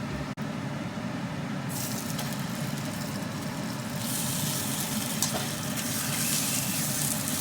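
Pork chops sizzle in about a tablespoon of hot oil in a pan over medium heat, a close, continuous frying hiss that grows fuller and brighter partway through, with no talking.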